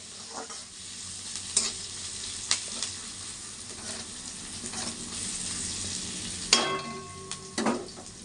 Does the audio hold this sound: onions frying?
yes